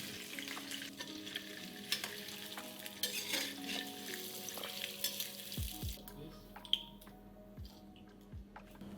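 Cottage cheese sizzles and fries in a pan while a utensil stirs it with steady scraping strokes; the frying fades after about six seconds, leaving faint clinks and drips.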